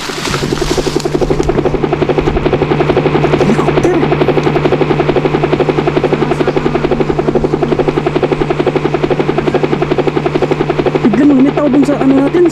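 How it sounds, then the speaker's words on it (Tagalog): A helicopter drones steadily overhead above a forest, its low rotor thump and engine hum loud and continuous throughout. "Bro, may helik helikopter."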